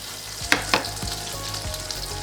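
Shrimp frying in a pan for tacos, a steady close sizzle with a few sharp pops and crackles and some soft stirring knocks, no voices.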